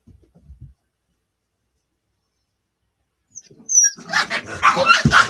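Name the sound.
puppies barking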